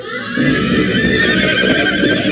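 A horse neighs loudly and alone, its whinny drawn out over about two seconds with a faint clip-clop of hooves beneath it.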